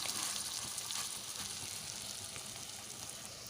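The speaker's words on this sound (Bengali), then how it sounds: "সব কটা ভালোভাবে তুলে দিলাম কড়াইতে উল্টে পাল্টে করে লাল করে ভেজে নেবো মিডিয়াম আঁচে ভাজবেন" Raw banana kofta balls fry in a wok of oil over medium heat, a soft, steady crackling sizzle heard alone without any voices.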